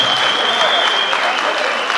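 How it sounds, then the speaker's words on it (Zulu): An event crowd applauds, a dense, loud, continuous wash of many hands clapping close by with no pauses. "Cela nishayile ihlombe"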